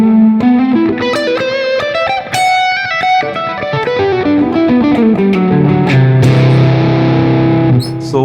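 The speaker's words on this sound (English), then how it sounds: "So, in between fuzz and distortion, something like that." Overdriven electric guitar through a boost pedal into an amp's drive channel, with a sound between fuzz and distortion plus delay, plays a continuous melodic line with sustained, gritty notes and trailing echoes, loud and alone.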